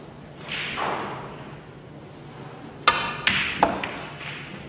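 Snooker balls click sharply together in a cannon during a professional match, several crisp knocks in quick succession after a quiet stretch, with a faint voice earlier.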